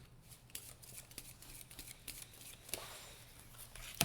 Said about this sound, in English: I'm going to shuffle all the cards from my discard pile and to make a new deck